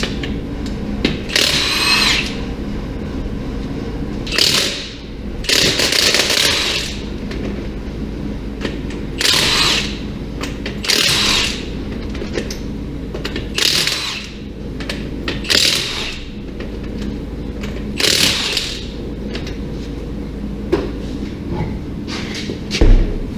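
Power tools and a 22 mm socket work loose the front wheel of a Ford F250 pickup, several loud bursts of impact-wrench whirring and rattling spaced across a steady background hum, with occasional clanks between them.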